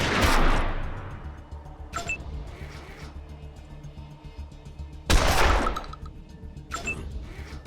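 Gunfire in the video game Wasteland 2: two loud bursts of shots a few seconds apart, each trailing off with a decaying echo, with fainter single reports and mechanical clicks between them.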